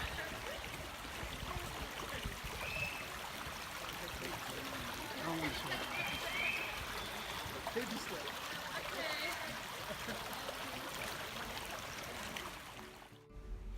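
Shallow stream water runs through Fern Canyon in the redwood forest near Crescent City, California, a steady, close rushing and trickling wash that fills the whole stretch without letup before cutting off at the end.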